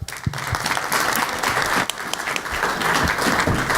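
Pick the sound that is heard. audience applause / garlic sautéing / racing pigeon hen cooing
audience applause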